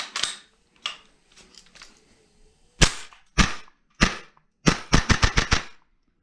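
Tokyo Marui MWS MK16 gas blowback airsoft rifle firing, a few spaced sharp cracks followed by a quick rapid string of shots, loud and close.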